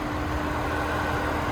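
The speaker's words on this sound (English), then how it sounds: "there's that 3-liter twin turbo V6, mostly covered up there" A 2026 Cadillac CT5's 3.0-liter twin-turbo V6 idles with a steady, even hum, continuous at a constant level, close by and unchanging throughout.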